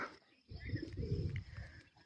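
Pigeons coo softly nearby, a low rolling murmur rising after a brief pause and continuing steadily, faint overall.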